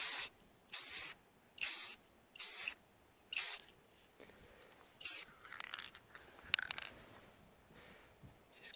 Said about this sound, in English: So let's skip to the other part where I can start spray painting again, eh?